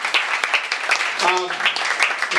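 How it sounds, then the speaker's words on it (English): An audience at the ICC-WIN Summit keynote applauding, with steady crowd clapping close and even throughout and a voice speaking over the top. "So I'd like to just give her a round of applause."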